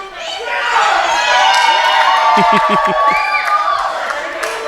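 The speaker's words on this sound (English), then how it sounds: "That might have been the biggest cheer of the night." Wrestling crowd at a live match cheering and whooping loudly and steadily throughout, a dense roar of many voices with a few handclaps rising in the middle.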